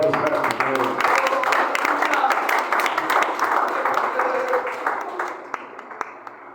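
A standing church congregation claps to welcome a preacher, a dense continuous patter of hands under a voice that tapers off toward the end.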